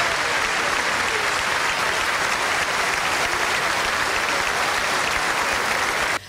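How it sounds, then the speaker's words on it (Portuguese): Mourners applauding during a funeral procession for school shooting victims in Suzano, Brazil, a continuous, dense wash of clapping from a large crowd that holds evenly throughout and cuts off abruptly at the end. "A cada cortejo, muitas palmas."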